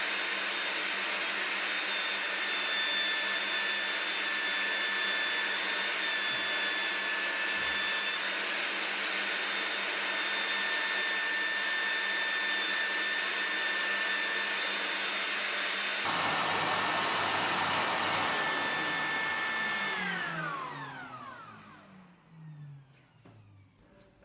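A handheld wood router cuts the edges of a pegboard panel with a shop vacuum running, a loud steady whine lasting about twenty seconds before winding down and fading out at the end.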